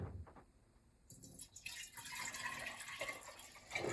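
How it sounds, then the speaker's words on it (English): Fruit juice from a Nama J2 juicer pours into a half-gallon mason jar, starting with a few faint drips and then a steady trickling fill, close and quiet. "So we'll go ahead and start filling up our half-gallon mason jar."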